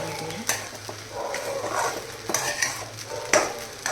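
Sabudana khichdi stir-fried in a pan after resting covered over low heat, with a gentle sizzle under repeated spatula scrapes and metallic clinks against the pan, close and fairly loud.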